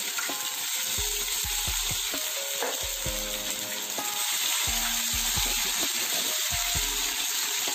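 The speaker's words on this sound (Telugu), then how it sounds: "అల్లం వెల్లుల్లి పేస్ట్ వేగే వరకు కలుపుతూ ఉండాలి." Ginger garlic paste frying in a hot pan while being stirred, with a loud continuous sizzle and intermittent scraping of the spoon against the pan, heard close up with no talking.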